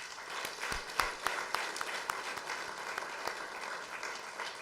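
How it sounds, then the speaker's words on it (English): Audience at an ICRISAT 50th anniversary celebration breaks into applause, a moderate wash of many hands clapping with a few sharper claps standing out. "And we owe ourselves a big clap."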